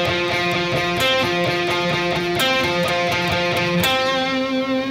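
Overdriven electric guitar riff alternating fifth and root in a steady repeating rhythm, then settling on one sustained note, close and loud with no voices.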